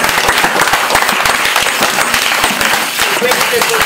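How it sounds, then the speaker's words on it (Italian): A crowd applauds doctors at an Italian gathering, loud, dense and continuous clapping close by that fills the whole stretch with no talk over it. "E un applauso agli medicini."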